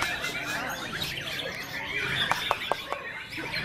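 Several songbirds chirp and squawk at a bird singing contest training session in Cijantung, with a run of sharp bright calls later on over a busy background.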